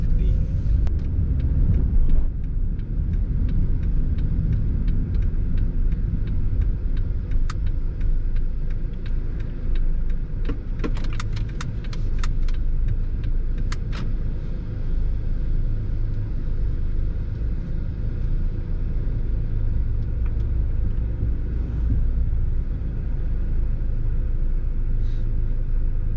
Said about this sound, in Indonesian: Lihat, gue parkir paralel segitu cepatnya dan segitu lincahnya tanpa drama.